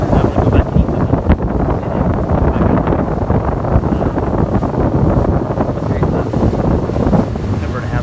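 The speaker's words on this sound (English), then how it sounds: "It's too windy, I'm sorry, but I had to record it." Strong wind gusting at a lake, buffeting the microphone in a loud, constant roar that runs without pause from start to finish.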